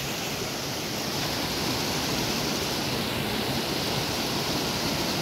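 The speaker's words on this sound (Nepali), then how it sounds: "यो हामी देख्न सक्नुहुन्छ भिडियोमा ठाडो खोला" A flooded mountain stream swollen by heavy rain rushes in a dense, loud, continuous roar of broadband water noise, steady and close without pause.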